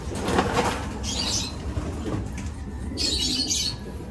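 Soft pigeon coos and bird chirps sound close by inside a pigeon loft, with a muffled indoor background and a couple of brighter chirping bursts.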